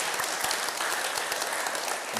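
Steady applause from an audience at a talk, dense clapping filling the whole stretch at an even level with no voices over it.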